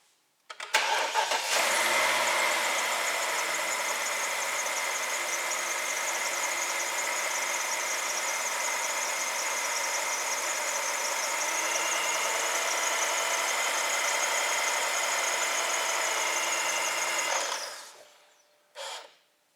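A BMW N62 V8 cranks and catches, then settles into a steady, even idle that holds for about fifteen seconds before cutting off, with a short burst of noise after shutdown.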